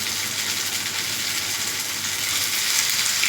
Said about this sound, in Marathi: आता दोन्ही बाजूने चांगलं तळून झाले बघा.